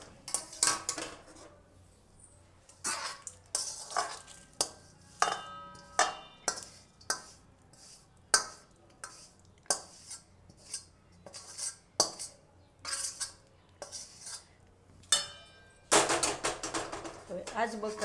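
Ragi laddu ingredients being mixed in a metal pan, giving a steady series of sharp clinks and scrapes of a utensil against the metal, close and irregular, with speech faintly underneath.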